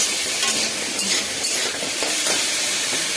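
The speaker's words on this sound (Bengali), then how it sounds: "একটুখানি ভাজা ভাজা হোক" Vegetables fry in hot oil in a pan with a steady bright sizzle, while a spoon stirs and scrapes through them in soft, irregular bursts, close and loud with no talking.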